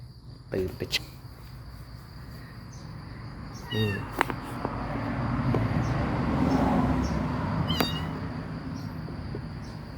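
A cat gives three or four short, distinct meows spaced a few seconds apart against a steady chirring of crickets, with faint voices in the background.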